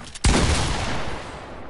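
A loud gunshot burst from a shooter video game on PS4 cracks out once, then trails into a long, noisy reverberant decay with no talk over it.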